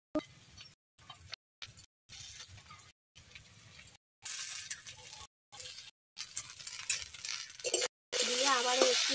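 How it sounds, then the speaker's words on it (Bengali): Chopped tomato hits a hot pan for a kuche fish korma and is stirred, giving bursts of sizzling hiss and utensil clinks broken by short pauses, with a brief voice near the end. "এবার টমেটোটা দিয়ে দেব।"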